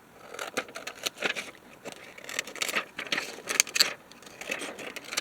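Scissors snip paper for a collage in quick, uneven bursts of close crisp cuts and rustles, with no talking.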